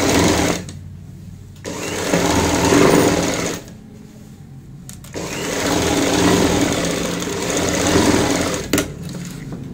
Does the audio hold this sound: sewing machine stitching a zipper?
yes